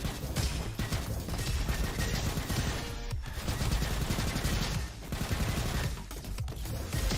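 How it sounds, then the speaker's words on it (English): Rapid bursts of rifle fire from the windmill rifle in the shooter game Roboquest, loud and dense throughout, with brief pauses between volleys over a busy game mix. "I don't mind windmill rifle, I quite like it. It's just a solid weapon."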